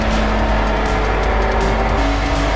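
A Jaguar XJ220 races around the Speedway track in Forza Motorsport 4, its engine droning loud and steady with a constant hum and no pauses.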